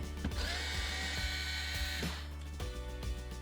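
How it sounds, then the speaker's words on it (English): Screws being removed from the sun visor of a second-generation Subaru Crosstrek, with repeated short ratcheting, whirring driver bursts at close range and small mechanical clicks in between; nobody speaks. "Go ahead and remove the screws."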